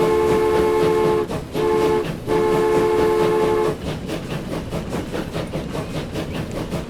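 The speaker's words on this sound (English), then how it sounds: "We're just going to follow the journey of the train." A train runs in the video game Transport Fever, a loud horn blaring in three blasts with short gaps, then the steady rumble and clatter of rolling wagons.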